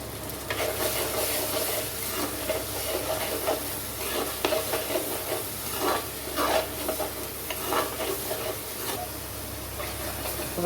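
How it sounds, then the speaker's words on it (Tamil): Onion paste sautés in oil for fish curry, giving a continuous close sizzle with irregular scraping from stirring throughout. "எண்ணெய் தனியாக பிரிஞ்சு வர்ற அளவுக்கு வதங்கி வரணும்"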